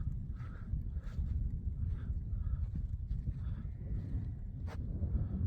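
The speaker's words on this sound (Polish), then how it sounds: "Stado baranów." A herd of rams moves along a mountain trekking trail near Rakaposhi in Pakistan, with scattered hoof clops and occasional faint bleats under wind rumble, fairly quiet and distant.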